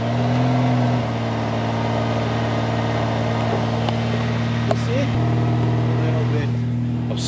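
A cold 1989 Honda Goldwing engine idles steadily on choke, a loud continuous drone with a slight pitch shift as the idle changes, close by and running the whole time.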